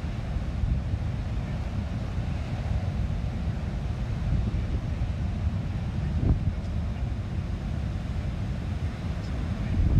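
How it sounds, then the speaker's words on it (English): Gusty wind blows over an ocean pier, a steady low rumble buffeting the microphone with surf noise beneath it, continuous and fairly loud throughout. "Every time a gust of wind comes along,"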